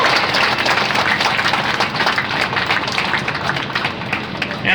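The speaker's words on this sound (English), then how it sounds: "Give a round of applause for all this great group of people." A dense, steady wash of clapping from a crowd at an outdoor campaign rally at Sailwinds Park in Cambridge, Maryland, loud and continuous throughout with no voices standing out.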